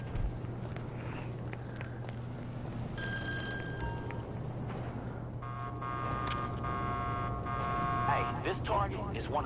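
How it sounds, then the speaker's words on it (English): A telephone in GTA Online rings in repeated electronic bursts over a steady low hum, with footsteps and faint talk around it. "I hear a phone ringing."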